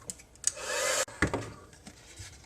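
Heat tool heat-setting embossing powder: a hissing, fan-driven whir that runs for about half a second, cuts off sharply, then gives a brief second burst before fading into quiet room noise.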